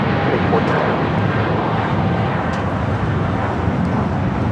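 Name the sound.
Air China Boeing 777-300ER taking off for Beijing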